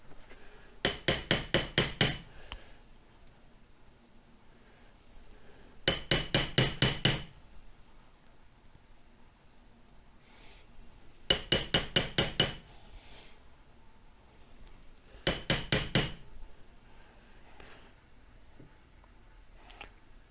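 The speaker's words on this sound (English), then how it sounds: "I just went ahead and tapped it in with a hammer this time" A hammer taps a seal into a Ford 9-inch rear end in four separate bursts of rapid, ringing metallic strikes, each burst about five or six quick blows, with quiet pauses between.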